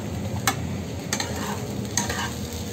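Sabudana khichdi being stirred with sugar in a pan, steady broadband sizzle-like scraping with three sharp spatula strokes spaced about three-quarters of a second apart, close and fairly even, no voices.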